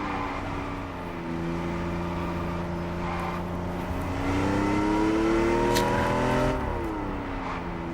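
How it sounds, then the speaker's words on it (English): A Lamborghini Countach engine from TDU Solar Crown hums steadily at cruising revs, then climbs and swells louder mid-way before easing back, a smooth continuous drone with no talk over it. "I forgot how nice the Countach sounds in this game actually."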